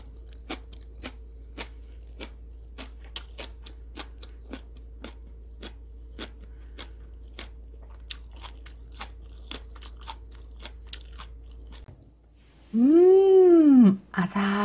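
Seasoned soybean sprouts bitten and chewed, giving sharp, regular crunches close to the mic over a low hum, followed by a short burst of speech.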